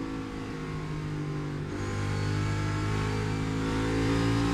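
NASCAR Cup Series race cars accelerate during a championship race, a steady engine roar that builds and rises in pitch, loud and continuous with no talk.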